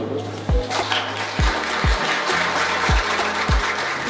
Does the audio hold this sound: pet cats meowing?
no